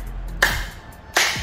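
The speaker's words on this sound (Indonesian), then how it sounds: "Ini bunyi tepukan." Two sharp hand claps about three-quarters of a second apart, close and crisp, each with a short ringing tail, picked up by a Plextone G5 ENC detachable microphone during a latency check, with no talk.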